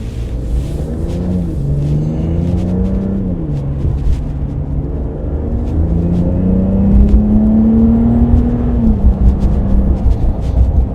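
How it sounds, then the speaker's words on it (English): A 2025 Ram pickup's turbocharged Hurricane engine rumbles and rises in pitch as it accelerates, with a faint turbo whirring whine over the low drone, steady and close. "I could hear the turbo a little bit there"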